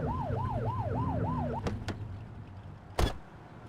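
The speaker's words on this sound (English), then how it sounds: "flip the siren to make them pull over" In the police video game The Precinct, a police car siren wails in a fast rising-and-falling yelp for about a second and a half, then cuts off. Two short horn-like blasts and a louder burst follow over steady engine rumble.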